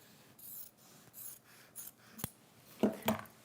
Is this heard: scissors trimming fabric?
yes